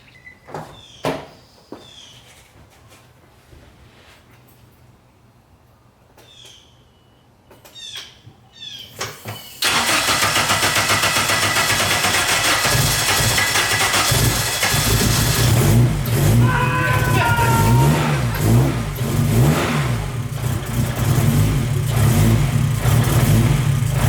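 A Honda K24 engine swapped into a Nissan Cefiro fires up for the first time: clicks and brief cranking, then the engine catches and runs loud and close, idling roughly with repeated revs.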